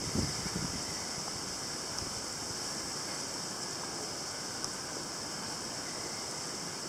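Steady wind rushes across the microphone, a constant broadband hiss and low rumble with a few soft buffets near the start, no voices present.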